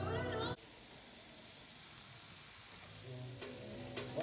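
Juicy Lucy burgers fry in a pan for dinner, a steady close sizzle and hiss that carries on alone after a short bit of talking at the start.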